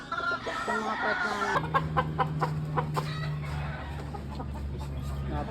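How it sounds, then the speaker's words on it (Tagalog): A gamecock rooster clucking and squawking close by, a quick burst of loud calls at the start followed by softer intermittent clucks, with a steady low hum in the background. "Ayan napakabait din ng manok."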